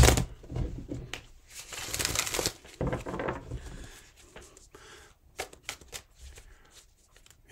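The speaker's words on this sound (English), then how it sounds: "One more shuffle here." Tarot cards are shuffled up close in quick riffling bursts, followed by lighter, scattered taps and flicks as the deck is squared.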